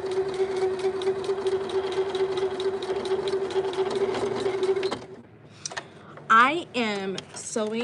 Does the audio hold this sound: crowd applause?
no